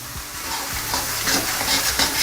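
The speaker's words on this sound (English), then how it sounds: "You really wanna fry off this mixture, yeah?" Beef mince and potato curry mixture fries steadily in a pan over medium-high heat, a continuous close sizzle with soft stirring scrapes throughout.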